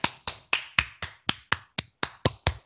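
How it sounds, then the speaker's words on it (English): Eleven crisp hand claps ring out in a quick, even rhythm, each one sharp and close. "I'll do the clapping sound effects."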